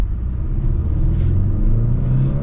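A 2024 Acura RDX Tech AWD SUV pulls away and accelerates, a steady low engine rumble with rising tone, close and continuous throughout with no talking.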